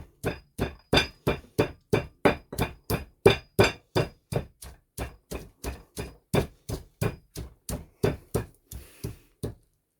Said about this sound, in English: you just pound away. This will take a while, about 5 to 10 minutes.